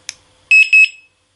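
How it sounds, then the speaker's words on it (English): After a small click, a 1Byone wireless driveway security alarm unit gives two short, high electronic pairing bleeps in quick succession, then falls silent. "The two bleeps indicate it's now paired."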